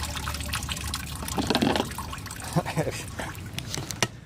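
A drinking water fountain fills a bottle with a steady, close trickle and splash as the water rises near the brim. A person talks over it.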